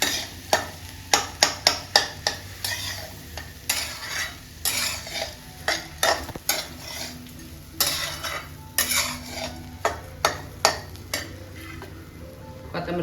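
Lemon rice is stirred and mixed in a pan with a spoon, giving repeated sharp scrapes and clinks in an uneven rhythm over a faint sizzle, close and fairly loud.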